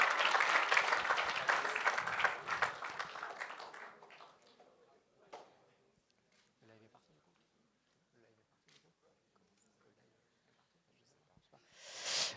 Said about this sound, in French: Toujours sous un tonnerre d'applaudissements, je suis sûr que les gens ont envie d'applaudir.